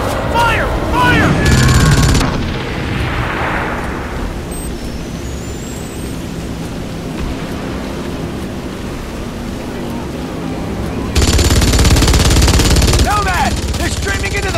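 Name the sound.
gunfire in the video game Crysis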